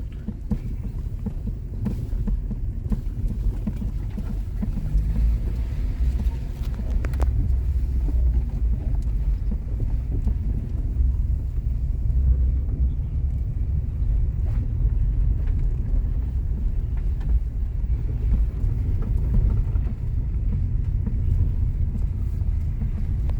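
Car climbing a winding hill road on the way from Tholimeetu to Dhiguva Paleem near Palayam Konda fort, a steady low engine rumble with wind buffeting the microphone throughout, continuous and close with no talking.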